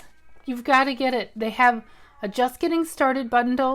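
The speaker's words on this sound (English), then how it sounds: "Sorry about the cat hollering." A house cat meows in short calls in the background of an indoor room, heard beneath continuous talking.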